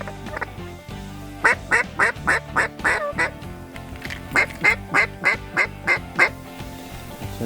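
A run of loud, rhythmic mallard duck quacks in two bursts, nearby in flooded hunting land, over a faint low background hum.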